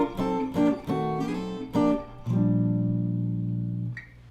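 Jazz guitar playing drop 2 chord voicings, several short plucked chords in quick succession, then a slide into one long sustained chord that rings out and fades, played alone.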